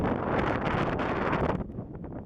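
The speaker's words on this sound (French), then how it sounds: "Ah, il y a un peu de vent, il y a un peu de vent." Strong wind buffets the microphone in loud rushing gusts, easing off briefly near the end before picking up again.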